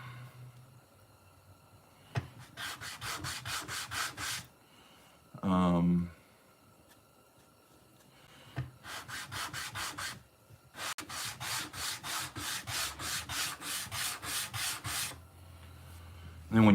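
Sanding the edge of a handmade leather slip square before burnishing, with several sustained runs of rapid back-and-forth rasping strokes, close and fairly loud, and a short burst of speech in a gap between them.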